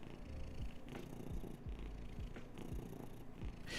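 A house cat purring steadily and close, a continuous low rumbling throb with rhythmic pulses that runs unbroken and unaccompanied by voices.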